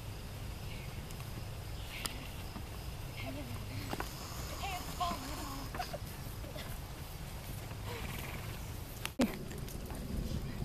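Horse hooves clip-clopping at a walk in a Civil War setting, faint irregular hoof steps under a steady low rumble of background noise.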